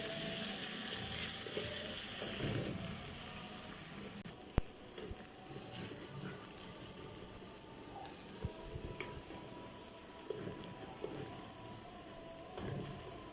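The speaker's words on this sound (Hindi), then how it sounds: "इसको अच्छी तरह भूनें ताकि जो लहसुन की स्मेल है वो ख़त्म हो जाए।" Chopped garlic and ginger fry in hot oil in a pan, a steady close sizzle and crackle with occasional stirring clinks and a brief knock, no talking.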